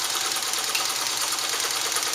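A vintage Japanese class 15 sewing machine runs steadily and continuously, a smooth, loud, even mechanical whir with no pauses.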